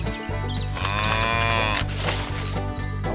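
Cows mooing at a cow barn: a long, loud, drawn-out moo rising and falling over a steady low mechanical drone, with a second call starting near the end.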